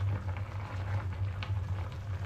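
Steady bubbling and gentle popping of liquid simmering in a pot, with a low constant hum underneath.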